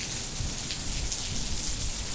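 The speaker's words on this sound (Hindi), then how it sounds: "ये रिमझिम गिरते हुए पानी की बूंदें और ये आकाश में गड़गड़ाहट" Steady rainfall in a rainy-season downpour, a dense continuous patter of drops with a low rumbling undertone that may be distant thunder, holding even throughout with no voices.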